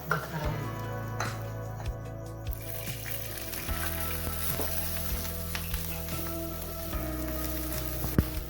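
Green chillies frying in a pan, giving a steady low sizzle with scattered crackles and pops, heard up close under a continuous background hum.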